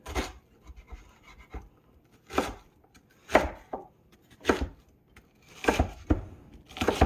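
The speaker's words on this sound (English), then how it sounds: "I'm gonna cut across. And then we're gonna follow the grain" A knife slices through food on a cutting board for a sweet and savory curry, cut across the grain in several irregular strokes, each a short crisp scrape or tap with brief pauses between.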